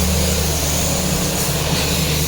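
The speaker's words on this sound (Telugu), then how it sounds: "ఇంజన్ కూడా స్టార్ట్ చేసా." Close, steady low hum of a 2021 Maruti WagonR VXI petrol engine idling evenly, with no voices.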